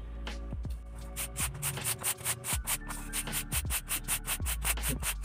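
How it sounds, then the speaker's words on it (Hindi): Sandpaper of 60 grit wrapped on a block rubbed over the wooden parts of a free-flight model plane built from fish-box material, giving repeated rhythmic scraping strokes, close and steady with no talking. "60 नंबर का जो सीरीज पेपर होता है उसका ब्लॉक से थोड़ा सा घिस लेंगे"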